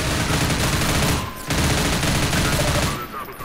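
Shotgun fire in Half-Life 2, loud, dense blasts filling the whole clip with a brief gap near the middle, close and dominant with no clear talk.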